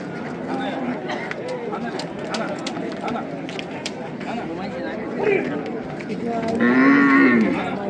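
Cattle moo at the busy Chakan bull market, a drawn-out low call rising near the end over steady crowd chatter and nearby voices.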